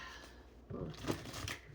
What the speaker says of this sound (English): doing a lot of shuffling here.